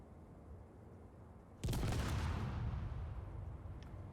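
A sudden loud blast in the video game Space Engineers bursts out after a quiet hum, then fades into a long rumbling roar.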